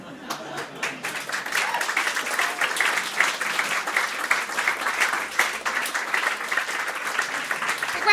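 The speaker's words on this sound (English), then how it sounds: "Applause for Christopher Fielden" A story-reading audience breaks into sustained applause, a dense roomful of clapping that swells quickly and holds strong, with a voice briefly audible at the start.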